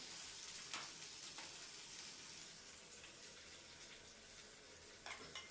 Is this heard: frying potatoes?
yes